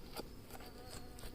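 Honeybees at an open hive during an inspection make a soft, close buzz, with a few individual bees droning past in short passes.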